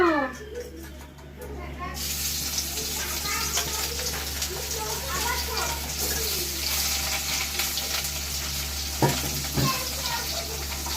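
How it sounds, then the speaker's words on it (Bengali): Pieces of local pond fish sizzle and crackle in hot oil in a pan, a steady close frying hiss with occasional spatters while voices talk over it. "আমার সবগুলো মাছ ভাজা হয়ে গিয়েছে"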